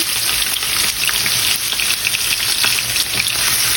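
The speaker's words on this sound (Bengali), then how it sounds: "এখন এখানে আমি কেটে রাখা পেঁয়াজ রসুন কিছু দিয়ে দিচ্ছি" Chopped onion and garlic sizzling in hot oil, a loud, dense, steady frying hiss with faint crackles, close up and uninterrupted, no voices.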